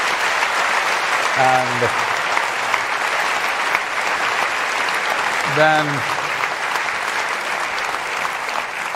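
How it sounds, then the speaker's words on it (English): A live audience claps steadily at a conversation event with two guests. The dense applause runs throughout, and a voice speaks briefly over it. "you clap for too long"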